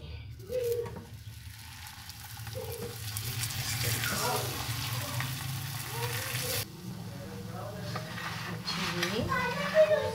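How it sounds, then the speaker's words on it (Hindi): Lachha paratha frying in ghee on a pan, a steady sizzle running throughout with scrapes and clinks of the pan as it is flipped, a voice talking over it. "इस पर अब मैं थोड़ा सा घी डाल रही हूँ इस तरीके से और इसको हम पलट लेते हैं"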